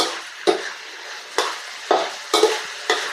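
Pork stir-fried with shrimp paste and sato beans in a pan, loud sizzling with five or six sharp scraping stirs of the spatula at irregular intervals, close up and with no talk.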